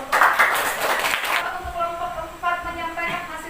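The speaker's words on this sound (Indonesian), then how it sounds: "Kita tepuk tangan untuk kelompok" A class gives a short round of clapping for a presenting group, brief and fairly close, fading after about a second and a half as a voice begins speaking.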